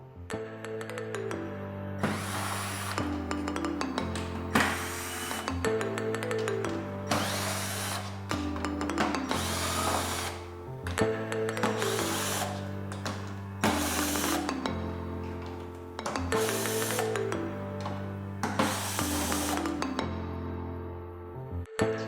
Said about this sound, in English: we're gonna go all around and remove the remaining screws